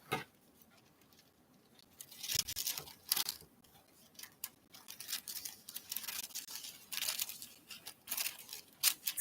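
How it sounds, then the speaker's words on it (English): Scissors trim excess material from a pet collage, giving a run of soft, irregular snipping and rustling sounds close by, quiet between cuts. "I'm going to cut this excess off"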